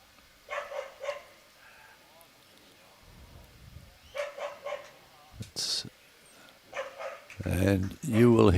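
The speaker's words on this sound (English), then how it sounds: "And you will hear, as you possibly can, dogs barking, etc." Dogs bark in a residential area beside a bowls club, several bursts of barking scattered through the scene at moderate distance, mixed with faint background murmur and a closer voice near the end.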